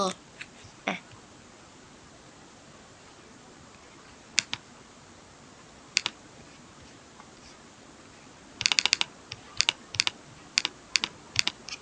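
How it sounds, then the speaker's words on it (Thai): A query is typed on a computer keyboard, heard as sparse single key taps that become a quick run of clicks near the end, over a quiet room hiss with a voice talking. "เออสมมติว่าพิมพ์นะคะว่า explain me"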